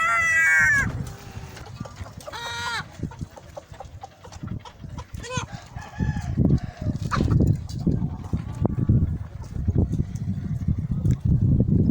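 Hens in a household flock cluck and squawk close by in irregular bursts, with a brief crow-like call near the start. Low handling noise and rustling run underneath.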